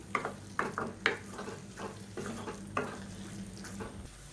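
A spoon stirs eggplant and tomato thokku in a pan, giving soft repeated scraping strokes at an even rhythm over a faint sizzle, quiet and close.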